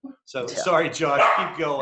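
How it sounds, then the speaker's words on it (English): A pet dog gives one brief bark at the start, then someone talks continuously, with the dog quiet beneath his voice. "but that's our dog"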